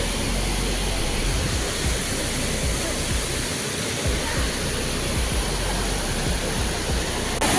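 Changey Waterfall roaring in a steady, loud, unbroken rush of falling and splashing water close by, with no other sounds standing out.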